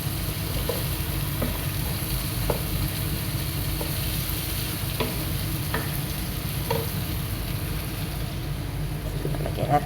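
Chicken sautéing in a pan with salt and black lemon powder, a steady, close sizzle and fry running throughout, with occasional stirring clicks and scrapes on top.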